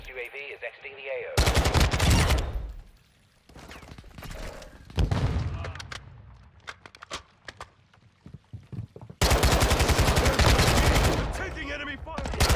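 Bursts of automatic gunfire from Call of Duty: Modern Warfare II rattle loud and close, long sustained volleys alternating with shorter clusters of single shots and brief quieter gaps.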